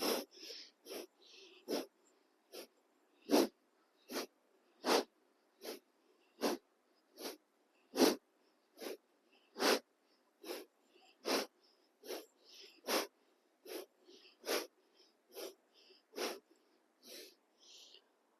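Rhythmic forceful breathing during a morning kundalini yoga exercise, sharp nasal breaths roughly every half second to second in a steady series of about twenty, close and clear in a quiet room.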